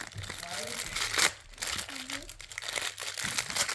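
Plastic packaging on a children's parcel crinkles and crackles as it is pulled open, in close, uneven bursts of rustling, with a voice talking over it.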